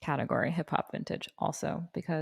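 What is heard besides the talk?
No everyday noises stand out.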